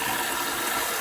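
Water pours from a watering can onto a potted Monstera Siltepecana, a loud, steady, close rushing splash that fills the whole brief moment.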